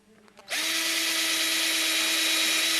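A power drill boring vent holes into a prosthetic socket, spinning up abruptly to a loud, steady, high whine that holds continuously, close up.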